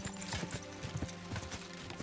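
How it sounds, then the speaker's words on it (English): Horse hooves clip-clop at a steady walking rhythm in Kingdom Come: Deliverance II, close and moderately loud over a continuous game background with no talk. "Horse. Now we don't have to ride as much."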